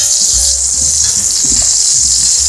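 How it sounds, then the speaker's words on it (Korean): Boiled potatoes go into a wok with cooking oil and set off a loud, close, continuous sizzle, with soft thuds and scraping as the potatoes settle and shift in the hot oil. "건져놓은 감자 웍에 다시 부어줍니다."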